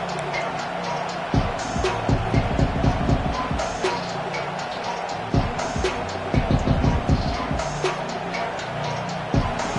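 Football stadium crowd cheering and roaring during a big third down in the red zone, a loud sustained wash of voices with rhythmic surges and bursts throughout.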